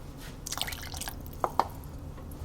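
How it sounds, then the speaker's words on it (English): Water added to a thick, simmering Kerala-style black chickpea curry in a pot, heard as a brief run of close splashes and drips followed by two distinct plops. "I'm going to add a little more water to this."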